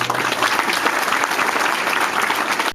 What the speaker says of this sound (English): please join me in a warm round of applause for Lieutenant Colonel retired James Tucker